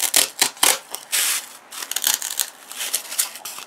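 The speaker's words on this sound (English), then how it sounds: "I'm just using a pair of scissors to do that." Crisp snipping and crunching bursts as scissors cut through floral foam, close up, in irregular quick bursts with brief pauses, no talking.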